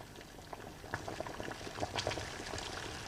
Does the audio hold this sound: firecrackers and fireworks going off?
no